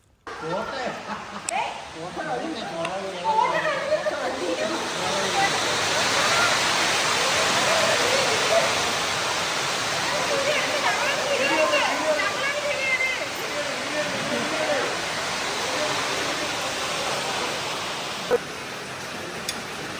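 Steady rain pours down in a constant hiss near a glass bridge in Idukki, with people talking underneath throughout.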